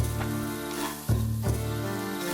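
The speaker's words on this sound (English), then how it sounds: "Measure a full cup of snake blood. Pour it in the frying pan." Snake blood poured into a frying pan in a video game sizzles with a steady hiss that swells into two louder bursts, close and alone, with no talk.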